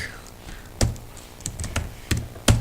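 Keys clack on a computer keyboard while someone codes in the IntelliJ IDE, a few separate sharp taps at irregular intervals, close and fairly quiet.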